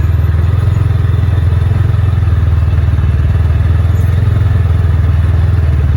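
A CFMoto Uforce 600 UTV fitted with an RNG clutch kit runs with a loud, steady rumbling engine drone and a rapid rattling pulse, close up and continuous throughout.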